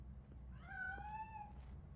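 A single cat meow from the video game RoboCop: Rogue City as the cat escapes, one drawn-out rising then falling tonal cry lasting about a second, faint over a low background hum.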